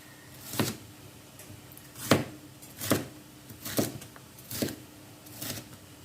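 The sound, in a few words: knife chopping peppers on a cutting board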